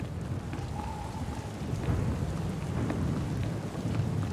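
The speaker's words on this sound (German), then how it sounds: "Und es regnet immer noch." Rain and thunder in the Star Wars: The Old Republic video game, a steady dense downpour with low rumbling thunder rolling underneath throughout, no voices.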